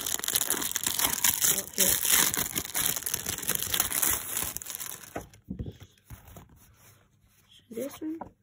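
Crinkling and tearing of a Pokémon Chilling Reign booster pack wrapper, loud and close for several seconds, then quieter rustling, with a short spoken word near the end.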